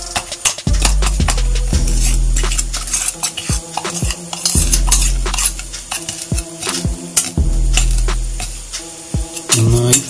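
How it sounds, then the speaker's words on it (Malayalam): Three camphor pieces being crushed with a metal spoon in a small bowl, loud close grinding scrapes and repeated sharp clinks of metal on the dish in uneven bursts, no voices. "സ്പൂൺ വെച്ച് നന്നായി ഒന്ന് പൊടിച്ചെടുക്കുക."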